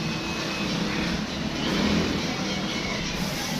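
Car engine revving under overhaul in a workshop, a continuous loud broadband roar that swells slightly in the middle, with faint voices in the background.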